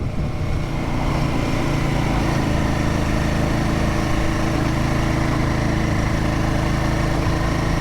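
A Royal Enfield Guerrilla 450 motorcycle engine pulls up a steep hill in third gear, a loud, steady, low throbbing drone that holds constant under load, close up with no talking.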